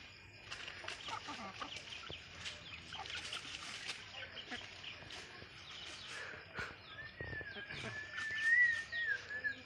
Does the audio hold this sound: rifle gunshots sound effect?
no